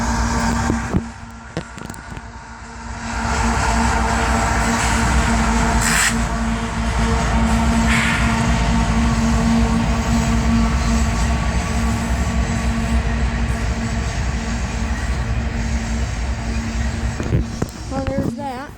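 A modern CSX train passes close by in a long, loud rumbling roar of wheels and rail cars, with a steady tone running through it, and a voice is heard over it.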